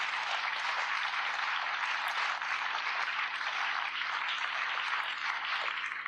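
Sustained audience applause fills a stage hypnosis show at a small-town Iowa Corn Days festival, a steady dense clapping from a crowd that stays loud and even throughout with no talk.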